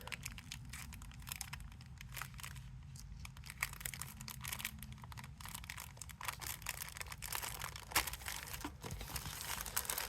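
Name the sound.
opening a tape-sealed plastic decal packet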